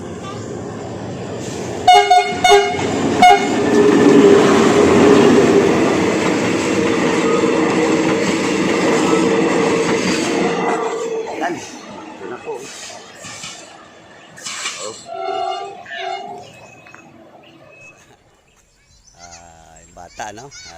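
A train rolls past with a loud, close rumble and sharp horn blasts near the start. The noise fades over about ten seconds, and scattered voices and small sounds follow.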